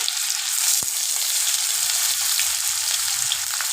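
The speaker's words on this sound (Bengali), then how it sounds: "ঘি দিয়ে এবার যে ড্রাই ফ্রুটসগুলো আছে এগুলোকে আমি একটু ভেজে নেব" Dry fruits and coconut pieces fry in ghee with a loud, continuous, even hiss close by, broken by faint crackles and one sharp tap, with no speech.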